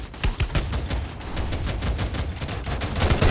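Gunfire in the video game Free Fire, rapid bursts of automatic shots cracking in quick succession, loud and close, with a brief faint tone in the background and no talk.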